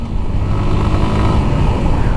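A Suzuki Gixxer SF FI ABS motorcycle with a newly replaced chain and sprocket set revs close by, its engine giving a loud, steady, rough roar for a couple of seconds.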